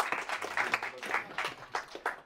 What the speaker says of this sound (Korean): 한번 격려의 박수 한번 부탁드릴게요